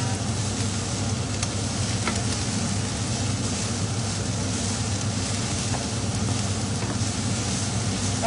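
Vegetables sautéing in a pan on an electric stove for a sticky sweet chili pork dish, a steady close sizzle and crackle running throughout with no talk.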